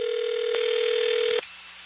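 A steady electronic telephone tone sounds alone, with a second tone joining partway through, then cuts off abruptly before a recorded phone call.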